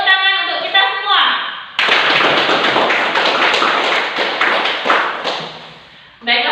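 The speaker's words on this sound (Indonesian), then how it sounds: "Beri tepuk tangan untuk kita semua." Schoolchildren in a classroom clap their hands together loudly and close by after a teacher's prompt, a brisk burst of many hands lasting several seconds, with a voice talking briefly before and after.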